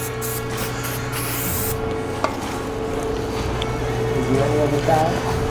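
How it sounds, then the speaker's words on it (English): Brake cleaner sprayed onto car brake parts in a garage, a steady hiss in a few-second burst, then faint rubbing and low workshop noise, with talk nearby. "We're using transmission cleaner, brake cleaner."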